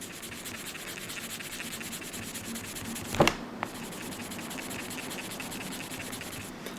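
A wet Lansky eraser block rubbed flat-side against a rusty knife blade gives a steady, close gritty scrubbing that runs the whole time, broken by a brief sharper scrape midway.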